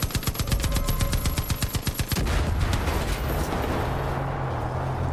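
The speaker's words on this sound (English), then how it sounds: "I'm gonna end it by shooting the silo!" Rapid automatic gunfire aimed at a silo in Far Cry 5, a fast even string of loud close shots for about two seconds, followed by a roaring, rumbling burst of noise that trails off into a low drone.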